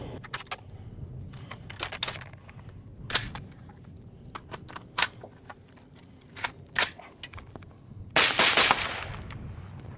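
A rifle fed from a cheap steel-reinforced Bulgarian 40-round magazine, heard as a few sharp, separate reports and metallic clacks spread over several seconds, with a loud harsh burst near the end.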